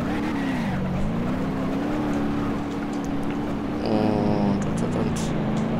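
A Blista Compact car drives in BeamNG Drive, its engine humming steadily and rising in pitch as it accelerates, with a brief burst of revving near the end.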